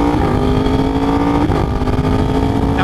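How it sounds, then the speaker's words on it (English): A 2023 Yamaha R1 sport motorcycle engine roars loudly and steadily up close, its exhaust note rising and falling with throttle changes over a few seconds. "And the sound, the way that exhaust is kind of bah, bah, bah"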